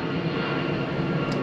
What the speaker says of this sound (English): Sorry about the plane, y'all.